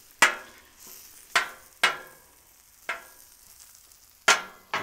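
Potatoes turned and mixed on a Blackstone griddle, with six sharp scraping spatula hits spaced unevenly over a low background sizzle, close and fairly quiet.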